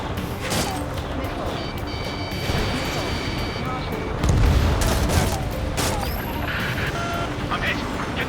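Gunfire and explosions from the air-combat video game Ace Combat 7 during an escort mission: dense, continuous booming and crackling fire with a heavier blast midway, under radio-style voices.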